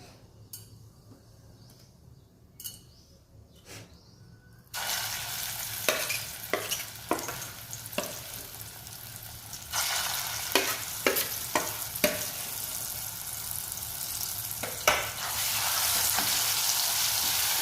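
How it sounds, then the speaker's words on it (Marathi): Whole spice masala sizzling in oil in a pan for a spicy village-style black-masala stuffed eggplant dish, starting quiet then jumping to a loud steady fry with repeated sharp stirring knocks of a ladle against the pan. "असा हा मसाला छान आपण तेलात परतून घ्यायचा आहे"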